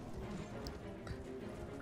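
A horse gallops in the Elden Ring video game, the hoofbeats a steady, quick muffled clatter under a dense, rumbling game soundscape, moderately quiet.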